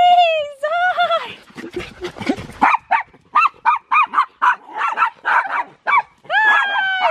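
Puppies at an outdoor dressage festival let out high, wavering yelps and whines, then a quick run of short, sharp barks and yips, close and fairly loud, with a person's voice mixed in.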